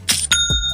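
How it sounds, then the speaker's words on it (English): A Shopify sale notification chime: two quick bright bell-like dings ringing out clearly on their own, with a soft lower tone trailing at the end. "That's the sound of another sale on Shopify."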